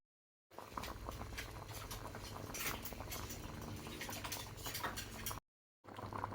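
Eggplants and an onion cut in half boil in a pot over the fire, giving a steady bubbling, pattering simmer at low level that cuts out briefly near the end, with no voices.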